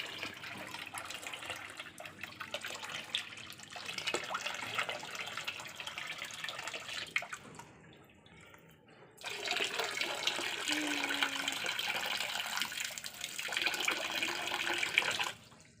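Water pouring into a small backyard catfish pond, a splashing, hissing stream that fades briefly in the middle and then resumes more strongly, close and steady with no talk.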